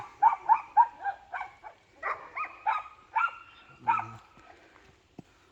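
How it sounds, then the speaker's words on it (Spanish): Matilde, a farm dog, barks in a quick volley of about a dozen sharp barks at moderate distance, grouped in short bursts with brief pauses, and the barking trails off toward the end. "¿Cómo ladra Matilde cuando me ve?"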